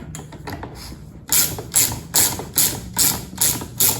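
A ratchet wrench works loose a shock absorber bolt on a BMW Z4, first a few quiet clicks, then six loud, evenly spaced bursts of rapid metallic clicking close by.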